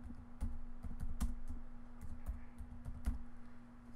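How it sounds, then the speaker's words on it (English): Quiet, steady typing of text on a computer keyboard while working in embroidery design software, with irregular soft key clicks over a low electrical hum and no speech. "As I tap my text in"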